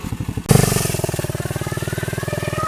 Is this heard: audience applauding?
no